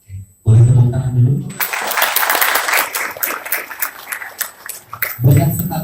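Seminar audience breaking into applause, a dense burst of many hands clapping for several seconds, with a speaker's voice just before and after.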